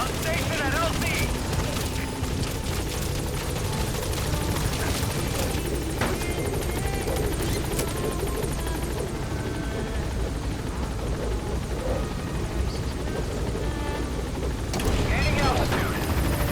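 Helicopter arriving at a landing zone in Metal Gear Solid V, a loud continuous rotor thump and engine roar that holds steady throughout, with radio voice chatter and game effects over it.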